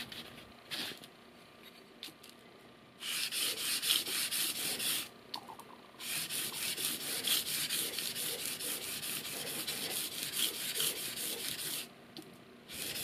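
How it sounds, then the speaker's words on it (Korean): A shoemaker's knife blade scrapes back and forth on 1000-grit sandpaper in long gritty strokes, with pauses between bursts of rasping, close and fairly soft. "이번엔 1000번 사포에서 기본 마무리 연마를 진행합니다"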